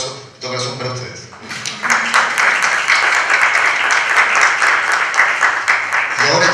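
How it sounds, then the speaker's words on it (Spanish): An audience bursting into applause at a 2018 comics panel discussion: after a brief spoken phrase, loud, dense clapping swells and holds steady, close and full, for several seconds. "un aplauso de todo corazón para ustedes"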